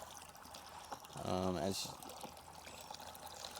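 Water from a solar-powered pump splashes briefly into a hydroponics setup, a short, close trickle with a faint voice beneath it.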